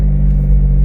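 A BMW E92 M3 fitted with an ACM muffler rumbles with a deep, steady, loud exhaust drone, close and unbroken for under a second.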